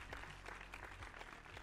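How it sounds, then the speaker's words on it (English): Canned applause from a stream deck soundboard plays quietly and steadily, a dense wash of many hands clapping with no voices over it. "Let's have some applause."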